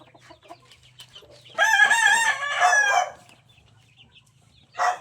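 A farm rooster crows loudly and close by, one long drawn-out call, with a brief burst of clucking from a hen near the end and quiet background hum.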